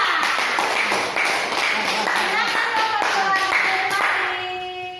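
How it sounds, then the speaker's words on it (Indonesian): Classroom applause for a student group, dense hand clapping from many pupils filling the room steadily, with children's voices chattering over it before the clapping thins out toward the end. "Kasih aplaus untuk kelompok 2."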